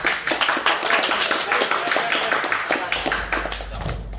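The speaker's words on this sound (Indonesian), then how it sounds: "tepuk tangan." A crowd clapping hands at a community anniversary gathering at a villa, with distinct loud claps in a loose rhythm that thin out toward the end and pick up briefly again.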